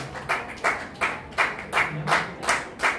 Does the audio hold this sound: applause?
yes